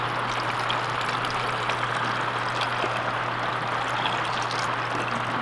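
Brine pouring steadily over cucumbers packed in a jar for pickling, a continuous splashing trickle at close range with a low steady hum underneath.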